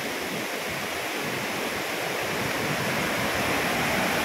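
Bolinao Falls roars as a continuous, dense rush of falling water, loud and steady throughout with no voices.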